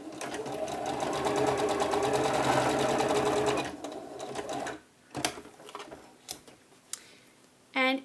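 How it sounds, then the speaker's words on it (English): A sewing machine runs a continuous top stitch along a blouse edge, a loud steady whirring buzz for about four seconds, then stopping, followed by scattered clicks and handling noises. "now we will also put another top stitch in, 1/8 of the inch away from the very edge of the blouse"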